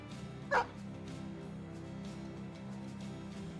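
A war dog in the Battle Brothers video game gives one short, sharp bark early on, faint under a low game soundscape.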